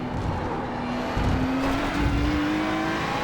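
A racing car in a racing video game drives at speed, its engine a sustained loud drone rising steadily in pitch as it accelerates, with road noise underneath and no talking.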